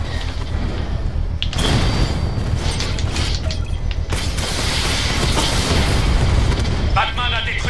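A drone explodes in the video game Batman Arkham Knight: a loud, heavy boom bursts in after a quieter opening and gives way to dense, sustained crashing and rumbling game noise, with voices faintly in the mix.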